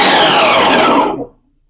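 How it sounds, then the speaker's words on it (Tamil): A loud mixer grinder chopping vegetables whirs in one short pulse, then cuts off and fades out abruptly. "மிக்ஸி ஆன் பண்றேன். ஜஸ்ட் பல்ஸ் மோட்ல போட்டா போதும்."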